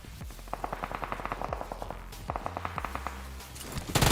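PUBG/BGMI gunfire crackles in rapid automatic bursts, with repeated sharp shots in quick rhythmic volleys and brief gaps between them, fairly close and with no talk over it.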